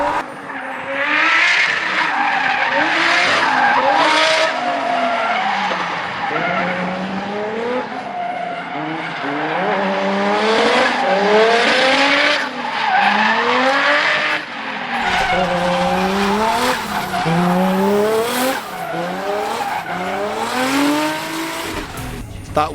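A NASCAR race car drifts around a Drift Masters competition layout, its engine revving in rising and falling waves with long tire squeals, loud and close throughout, with the car's note shifting near the end.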